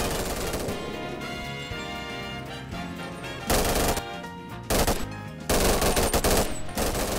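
SMG fire in the VR shooter BONELAB comes as continuous rapid bursts of automatic shots. The loud, dense rattling goes on through the whole stretch with brief pauses.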